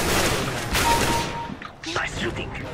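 Rapid gunfire in a first-person shooter game rattles loudly for over a second, then breaks off into scattered fainter shots while players talk over it.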